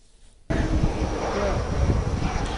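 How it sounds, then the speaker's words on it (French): Aircraft engine roaring suddenly into a loud, steady broadband rush as an airplane lands on the tarmac of Modibo Keïta International Airport at Sénou, Bamako, after near-silence. "l'avion de l'invité de marque du président russe Vladimir Poutine a atterri sur le tarmac de l'aéroport international président Modibo Keïta de Sénou"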